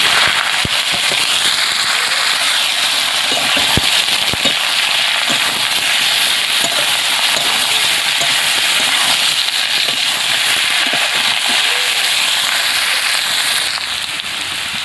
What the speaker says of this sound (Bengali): তো তেল গরম হয়েছে, হিঁচড় আলুটা ভেজে নেব।